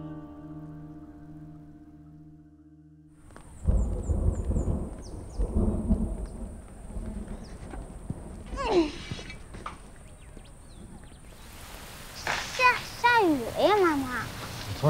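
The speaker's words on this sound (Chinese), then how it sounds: "怎么突然下雨了呢？" A sudden rain shower breaks out with deep rumbling thunder and steady rainfall that grows loud after a quiet, tonal opening. A sharp crack and bird-like chirps come through the downpour, and voices are heard in the scene.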